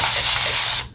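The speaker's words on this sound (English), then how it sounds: "And again, just lightly spraying so that it's damp." A spray bottle lightly mists damp hair in a continuous close hiss of fine spray lasting nearly a second, then cutting off abruptly.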